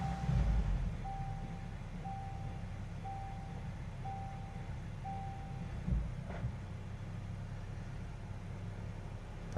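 A 2024 VW GTI engine, just back together after a transmission install, idles with a low, steady hum while a dashboard warning chime beeps at a regular pace several times.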